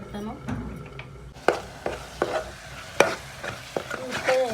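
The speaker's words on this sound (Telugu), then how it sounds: "దీన్ని కొంచెం సిమ్లోనే ఫ్రై చేసుకుంటే బాగుంటుంది." Food frying gently in a pan on low flame, a soft steady sizzle broken by a series of sharp stirring scrapes and taps spaced about once a second.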